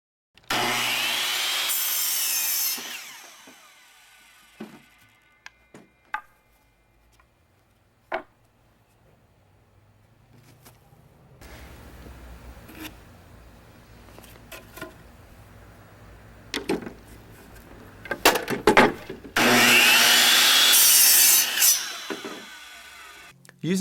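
Wooden deck legs for a skateboard halfpipe are cut with a saw: a loud burst of sawing at the start, then scattered knocks and handling of lumber, and another loud, close sawing run near the end.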